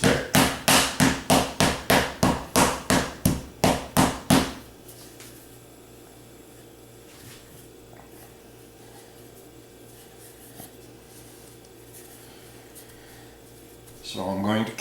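A rolling pin works pastry dough for an apple dartois. About a dozen quick, even thumps come close together, then stop, and a quiet stretch follows.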